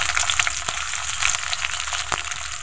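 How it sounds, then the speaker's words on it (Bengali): Chopped garlic, halved green chilies and chopped onion fry in soybean oil in a wok, stirred with a spatula: a bright, crackling sizzle up close, with quick scraping taps and pops and no voices. "ঘূর্ণির সাহায্যে এভাবে নেড়ে চেড়ে ভেজে নিতে হবে"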